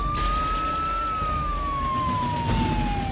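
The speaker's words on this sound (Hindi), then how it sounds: "पुलिस का सायरन सुनते ही भाग गए" A police siren wails steadily, its pitch slowly rising then gliding down, loud and close over a low background rumble.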